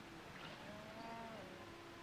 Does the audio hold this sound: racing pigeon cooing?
no